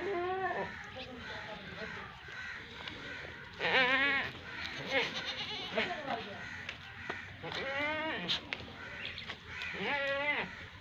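Goats of a Barbari cross bleat repeatedly at moderate distance, several wavering calls with short gaps between, mixed with people talking.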